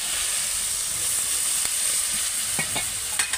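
Water poured into a hot pan of fried spinach and shrimp curry with potatoes, a loud continuous hiss and steamy sizzle, close, with a few clinks near the end.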